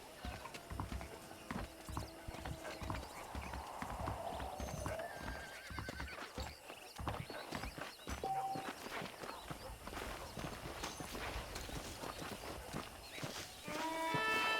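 Horse hooves clip-clop in a steady trot, with a horse neighing, over a game-like ambient backdrop and occasional chimes in the game Red Dead Redemption.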